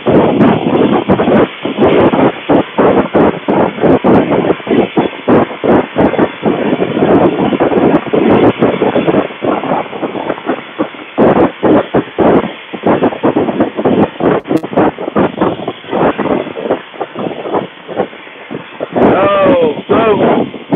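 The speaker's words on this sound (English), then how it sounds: "We'll be out of this wind in just a second, y'all." Wind buffets the microphone while riding on a JCB 214 backhoe loader, a loud, continuous rumbling roar that fills the whole stretch without letup.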